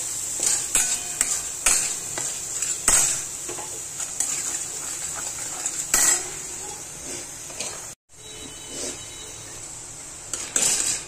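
Misal masala with red chili powder roasts in oil in a pan, frying steadily while a metal spoon stirs and taps against the pan in repeated clinks, with one brief break near the end.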